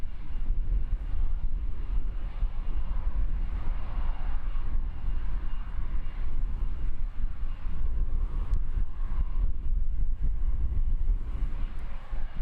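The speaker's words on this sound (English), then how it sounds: "Jetstar now on the move." Jetstar airliner taxiing at Christchurch Airport in New Zealand at sunset, a steady low distant jet engine rumble and whine with wind buffeting the microphone, no talk.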